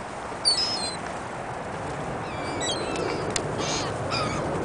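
Birds on a frozen lake in New York give a few sharp caws and chirps, moderately near, over a steady broadband outdoor hiss with no talking.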